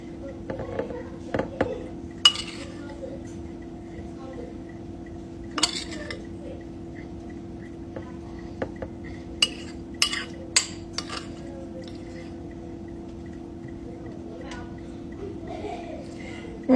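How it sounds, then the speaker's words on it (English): A teaspoon clinks and taps against cups while apples are spooned into each one, scattered light metallic chinks over a steady low kitchen hum, quiet and close. "I'm going to put a teaspoon of apples in each one"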